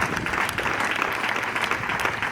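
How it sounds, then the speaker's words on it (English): Students in an audience clap together during a minister's speech at a school event, making a dense, continuous burst of applause that holds steady at full loudness throughout. "Students, you have to learn to clap"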